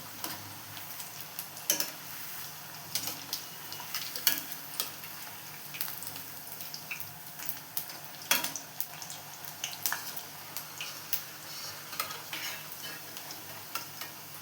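Masala dal chekkalu, flat spiced lentil crackers, fry in oil with a constant bubbling sizzle, punctuated by light clicks and scrapes as they are turned; no talking.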